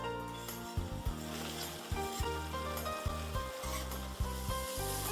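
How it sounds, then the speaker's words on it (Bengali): Halwa cooking in ghee over a medium flame is stirred steadily, a soft sizzle under regular rhythmic scrapes and knocks of a spoon against the pot, close up and without talking. "যদি আপনারা এইভাবে নাড়তে থাকেন তাহলে মিডিয়াম টু লো ফ্লেমে করতে পারেন"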